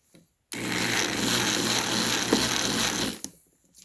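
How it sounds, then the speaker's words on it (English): A large drill bit is turned by hand over the edge of a VEX collar to chamfer it, giving a steady close scraping, rasping sound for about two and a half seconds that stops abruptly, with no talking. "Just grab a massive drill bit size and just spin it like once or twice above the collar and it's all gone."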